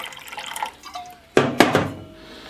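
Water, 1.5 cups of it, pours into a pot beside a solid fuel stove, with a short burst of splashing and dripping after a quiet moment, close and fairly loud, then fading to a faint ringing hum.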